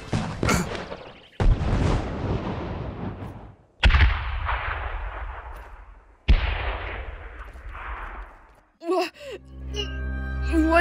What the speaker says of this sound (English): Someone, mount the turret!